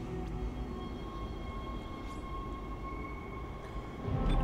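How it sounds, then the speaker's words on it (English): A tram rumbles along steadily in the video game Dead Space, a low continuous mechanical drone with a faint whine and occasional soft clanks, swelling slightly louder at the end. "let's get on that tram, see where the tram goes"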